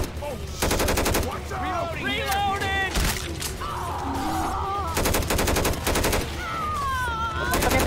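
Helicopter-mounted machine gun in Left 4 Dead 2 firing in several rapid sustained bursts, loud and close, with gaps between them where a person talks and game sounds continue.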